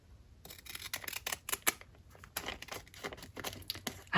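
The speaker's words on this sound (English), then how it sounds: "let's use some decorative scissors maybe" Decorative scissors snip through paper in a sequence of sharp, crisp cuts and rustles, close and fairly quiet, each stroke clearly separate, with no talking.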